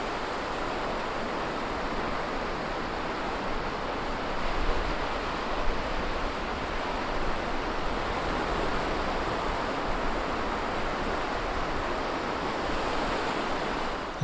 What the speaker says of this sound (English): sometimes it can just be soothing to watch the waves rolling in